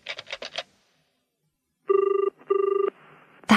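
Telephone ringing, preceded by a quick series of dial-button beeps, then two long trilling electronic rings of even length separated by a short gap, clear and close with no talking.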